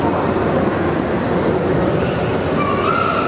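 A Pyongyang metro train running deep underground, a loud steady rumble of wheels on rails, with a thin metallic squeal rising near the end.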